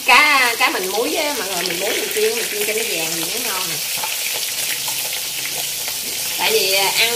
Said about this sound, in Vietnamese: mình muối mình chiên cho nó vàng thì nó ngon nè